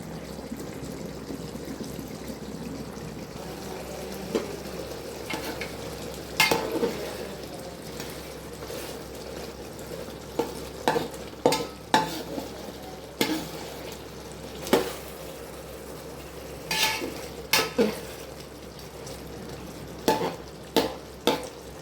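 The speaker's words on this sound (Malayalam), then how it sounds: "ചിക്കൻ ചിന്താമണി വെന്ത് വെള്ളമൊക്കെ വറ്റി ഇപ്പോൾ ചുറ്റും നിൽക്കുന്നത് എണ്ണയാണ്" Chicken chintamani sizzles in oil once its water has cooked off, with a quiet, steady fry throughout and repeated sharp scraping taps of a spoon stirring the pan, growing more frequent toward the end.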